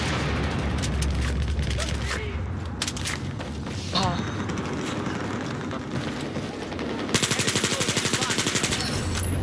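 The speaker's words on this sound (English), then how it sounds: "Machine gun!" Machine gun fire in the video game Battlefield, dense rapid bursts under steady battle noise with a sharp rattling stretch near the end, while a voice speaks over it.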